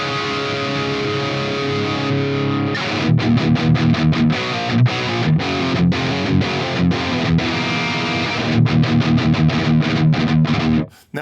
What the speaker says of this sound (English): So this is my 1978 Greco, possibly EG 500.